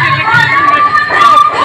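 A large festival crowd at a Durga Puja gathering in Rangjuli, a dense, loud, continuous wash of many voices and shouting children, close and unbroken throughout.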